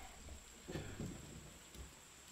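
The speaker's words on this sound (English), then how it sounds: "with the rain coming down" Rain falls steadily in the video game Empyrion, a soft continuous hiss with a couple of low thunder rumbles. The sound is faint and distant, with no talking.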